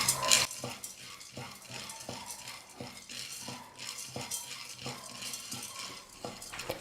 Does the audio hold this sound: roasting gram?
yes